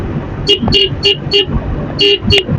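Several short, bright horn honks from a motorbike in quick bursts, loud and close, over a low engine rumble.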